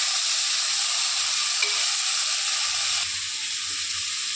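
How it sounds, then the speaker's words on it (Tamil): Tomato sautéing with onion and garlic in a pan gives a loud, steady hiss of frying, close and constant, without stirring strokes standing out and with no speech. "இப்போ ஒரு பாதி தக்காளி எடுத்து போட்டுக்கிறேன் பாதியை அரைச்சி போட போகிறேன் தக்காளி எவ்வளோ கொஞ்சம் மசிய வதங்கட்டும்"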